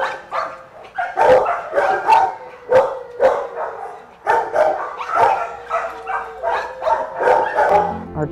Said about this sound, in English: to have that huge, loud, barking kennel right next to it